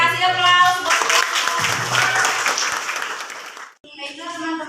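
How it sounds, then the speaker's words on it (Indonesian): Audience applause in a classroom presentation session, a few seconds of steady clapping that fades out, with talking over and after it. "Oke, kasih aplaus."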